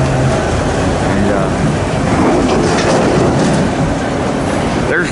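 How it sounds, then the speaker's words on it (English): A long eastbound auto rack freight train loaded with cars, vans and trucks rolls past close by, its steady rumble and rhythmic clickety-clack of wheels on rail filling the whole span. "Pretty big eastbound auto rag train here"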